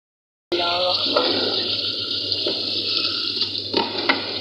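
Water runs and splashes steadily into a cooking pot for about four seconds, a continuous close-up pouring rush with a faint low hum beneath.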